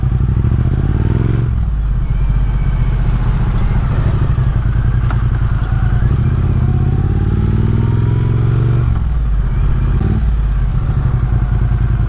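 A 2024 Triumph Speed Twin 900 A2 motorcycle with an aftermarket exhaust runs loud and close. The engine revs in repeated rising sweeps, with brief dips between them as it shifts gears, and there is no talking.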